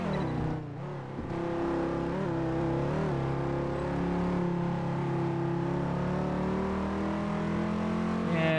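Racing car engine in Test Drive Unlimited 2 droning steadily through a lap, loud and continuous with pitch climbing and easing through shifts and corners.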